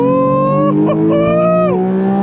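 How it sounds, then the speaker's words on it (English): A Porsche 992.1 911 GT3 engine revs hard on throttle, a loud sustained high-pitched wail that climbs, dips briefly between shifts and climbs again, close and continuous. "On throttle, here we go. Rev, rev, rev, rev, rev."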